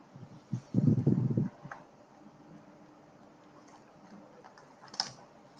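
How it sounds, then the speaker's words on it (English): Someone types on a computer keyboard during an online presentation, with a short dense burst of clustered clicks near the start followed by a few faint scattered taps over quiet room noise. "somebody is typing"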